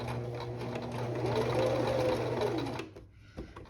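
Sewing machine stitching a bar tack back and forth across the bottom of a button, a steady close mechanical whir with tonal hum that stops abruptly near the end, followed by a faint clunk.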